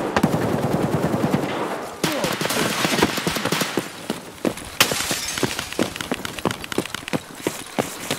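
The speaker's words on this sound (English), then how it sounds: "I'm like clearing every mag I got with this fucker." Automatic gunfire from a weapon in the shooter game Escape From Tarkov, with rapid bursts of sharp, loud shots firing close by in quick succession, forming a dense, nearly continuous stream of cracks with short breaks between strings.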